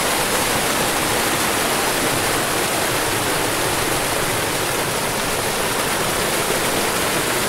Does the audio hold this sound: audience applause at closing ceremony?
no